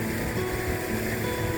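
Creek water in February runs wide open and strong along a trail near Powell, Wyoming, giving a steady, dense rushing wash that stays even throughout with no voices.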